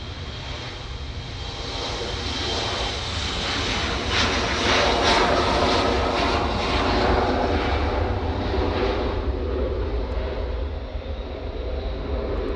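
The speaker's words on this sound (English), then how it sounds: "This is an Embraer E170 going back to Paris Charles de Gaulle" An Embraer E170 jet departs for Paris Charles de Gaulle, its engines roaring loud and steady as it climbs away, a broad continuous rumble that swells in the middle and then eases slightly.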